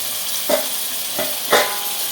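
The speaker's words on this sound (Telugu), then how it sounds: "ఇప్పుడు మనం చక్కగా కలిపేసేసుకుందాము." Turmeric and salt are mixed into a simmering goat head curry: three soft, brief spoon scrapes rise over a gentle, continuous sizzle and hiss from the pot.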